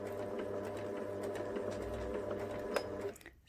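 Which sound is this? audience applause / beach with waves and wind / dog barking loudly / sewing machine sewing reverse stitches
sewing machine sewing reverse stitches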